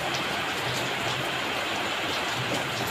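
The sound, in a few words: rain falling at night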